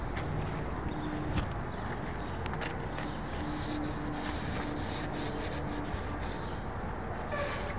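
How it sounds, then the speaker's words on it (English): Someone cleans the underside of a granite countertop slab during an undermount bathroom vanity sink install, a steady, close rubbing and scrubbing that continues for the whole stretch with no talk. "First thing I'm going to do is clean the underside of the slab."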